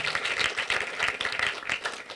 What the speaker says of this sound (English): Can you give a round of applause to God?